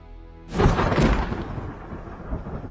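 A deep rumbling thunderclap breaks in after a short quiet moment, loud and rolling, then slowly fading with rain-like hiss beneath.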